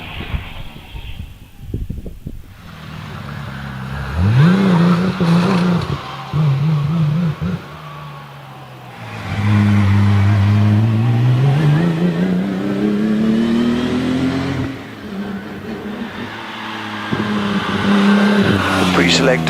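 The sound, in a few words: vintage Riley 2-litre racing car engine accelerating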